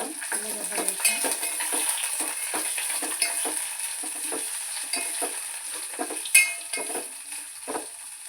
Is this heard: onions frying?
yes